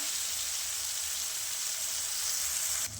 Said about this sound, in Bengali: এবার আমি পেঁয়াজ আর চিংড়ি মাছগুলো একসঙ্গে ভেজে নিব